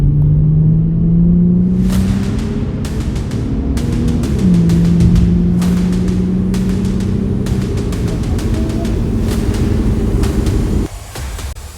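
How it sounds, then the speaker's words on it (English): A Nissan Skyline 350GT coupe engine, around 300 horsepower, rumbles loudly and steadily, its pitch rising and falling as it revs, with rapid ticking over the drone before it cuts off. "Sound of this engine is so fascinating."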